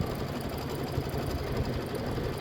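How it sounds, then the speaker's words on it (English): A sewing machine stitches a red thread embroidery design in a steady, fast, rhythmic whir that is fairly quiet and continuous throughout, with no talking. "we're going to get our red thread, and we're going to stitch the red work design"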